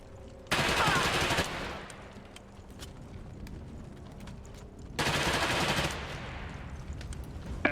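Bursts of automatic assault rifle fire crackle in the Iron Harvest video game, with two dense, loud rapid-fire volleys of about a second each separated by quieter scattered shots and battle noise.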